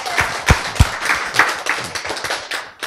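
Yuna claps by hand at a church health lecture, an irregular run of sharp, close, fairly loud claps with no talk over them.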